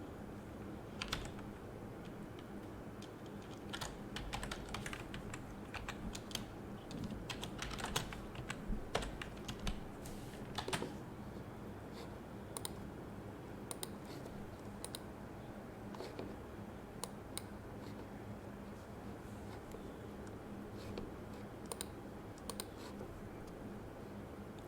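Computer keyboard typing while coding in PHP, a steady run of soft, close clicks and key taps continuing for the whole stretch, with short bursts and brief pauses, and no voice over it.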